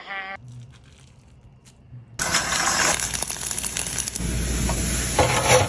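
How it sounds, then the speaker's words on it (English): A crispy tuna rice burger is seared in a pan. A few soft knocks in near silence give way to a sudden, loud, steady sizzle that continues to the end. "I don't feel like deep frying, so I'm just gonna sear it."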